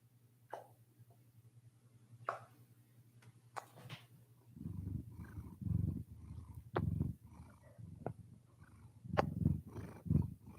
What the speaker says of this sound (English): Little kitty purrs.